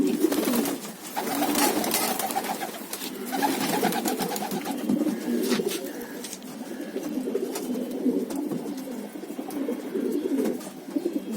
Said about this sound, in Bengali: আরো কিছু দেখাচ্ছি লং ডিস্টেন্সের পায়রা।